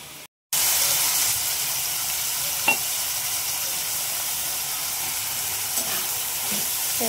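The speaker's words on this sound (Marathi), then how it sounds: "त्यात लसूण टाकलाय, कांदा टाकलाय, ते लाल करून घेऊ." Garlic and onion fry for a bitter gourd dish, a steady close sizzle and hiss running continuously after a brief silence, with a few faint clinks of stirring.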